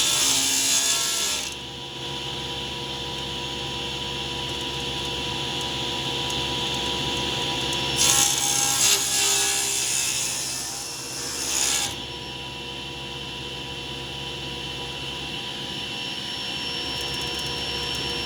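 A table saw rips wood boards into 2x2 strips, a loud continuous whine-and-rush drone with harsher, louder cutting bursts partway through. The nearby machine runs steadily throughout with no voices.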